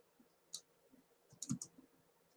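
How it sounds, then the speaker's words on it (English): Sparse clicks of keys being typed on a computer keyboard, a few faint separate taps and a short quick cluster, close up in a quiet room. "Hey guys, I'm typing this right now."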